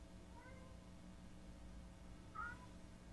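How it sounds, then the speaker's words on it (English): A pet cat gives two faint, short meows, one early and one near the end, against a steady low background hum. "That's my cat."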